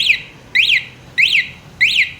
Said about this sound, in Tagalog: mag-a-alarm siya ng isang beses